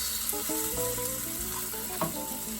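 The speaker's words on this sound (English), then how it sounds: "I'm at a point now where I'm going to flip the fillet." A salmon fillet sizzling in a pan right after being flipped, a continuous crackling fry with some tonal clinks and a brief knock near the end.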